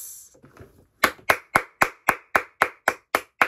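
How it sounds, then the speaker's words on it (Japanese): Steady hand clapping follows a brief patch of faint sound: about ten evenly spaced, crisp claps, close and fairly loud, standing alone without talk. "何の拍手これ"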